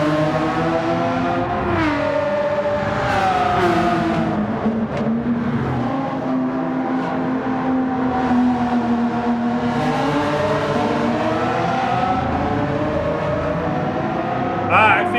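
A McLaren 12C (MP4-12C) engine in Gran Turismo 7 drones loudly and continuously, its pitch rising and falling with throttle and gear changes and never dropping out.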